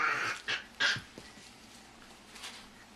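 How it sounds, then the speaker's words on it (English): A dog gives a few short, sharp yips or barks in a quiet indoor room, with a brief gap between the first two and a fainter one near the end; no one speaks. "Dog says woof woof."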